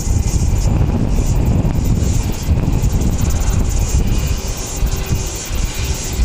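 A Qantas airliner at Wellington Airport makes a loud, sustained engine roar, steady and near throughout, alone with no talk.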